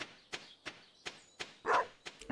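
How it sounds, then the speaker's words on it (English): Short, sharp barks from a dog in the farming game Stardew Valley, about five spaced yips over a couple of seconds, with one louder, longer bark near the end, fairly close and clear with no talking. "Why are you barking at Taco?"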